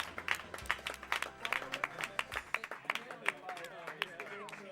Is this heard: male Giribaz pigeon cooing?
no